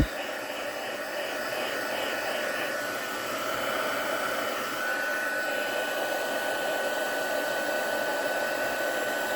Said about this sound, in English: I've grabbed my handy dandy Stampin' Up! Heat tool. Turn it up on to 2.